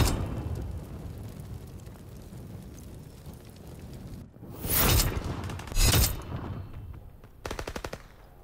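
Grenade and gunfire bursts in an Xbox One multiplayer shooter game: a low rumble of distant fire gives way to two loud explosive blasts close together, then a rattling burst of shots near the end.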